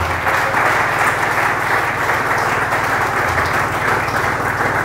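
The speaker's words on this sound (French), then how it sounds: "Acclame pour la parole." A church congregation at a Sunday service applauds with sustained, dense clapping that stays fairly loud and even from start to finish.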